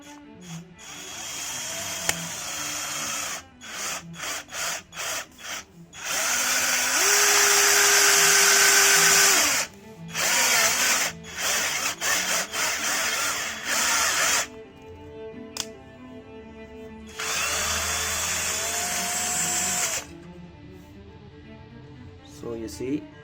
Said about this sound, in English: I'm drilling a thick steel.